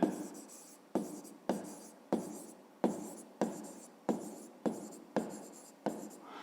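Pen strokes writing an answer by hand for a fifth-grade maths exercise, a run of about ten short scratchy bursts at a steady rhythm, close and fairly quiet, with no talking.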